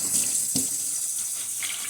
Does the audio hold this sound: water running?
yes